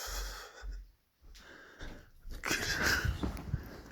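A dog breathes in wheezy, snorting bursts close by, with short sniffs and huffs separated by brief pauses, then a louder stretch of snuffling near the end; no one speaks.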